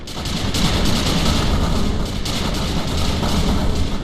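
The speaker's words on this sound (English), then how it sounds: "attacking the harvesters from the map with his stealth tanks" Stealth tanks firing on harvesters in the 8-bit Invaders strategy game, a loud, continuous barrage of overlapping gunfire and booming impacts with rapid pulsing bursts throughout.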